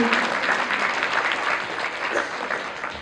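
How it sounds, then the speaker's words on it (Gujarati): Audience applause at a junior school annual day celebration, a dense steady patter of many hands clapping that runs for about three seconds at a fairly loud, even level. "ભાઈ ઓડિયન્સ તાળી કેમ નથી પડતી?"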